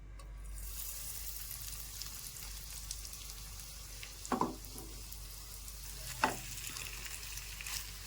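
A potato and onion snack fries quietly on a pan over medium gas, a faint steady sizzle with two brief clinks of a utensil against the pan.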